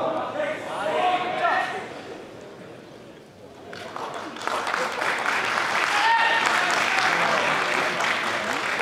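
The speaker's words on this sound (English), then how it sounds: "Let's give them a big warm round of applause." An audience at a bodybuilding competition applauds and cheers in a concert hall. The clapping swells, dips for a moment, then returns louder and sustained, with a host speaking over the crowd.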